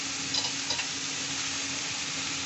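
Pumpkin sautéed in a pan with turmeric and chili powder gives off a steady, close sizzle, with faint stirring scrapes in the frying hiss.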